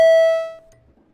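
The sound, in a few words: Senate chamber bells ringing for quorum call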